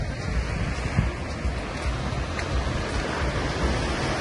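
Big ocean waves breaking with white caps at La Jolla Cove in San Diego, a continuous loud surf roar mixed with wind buffeting the microphone, no voices.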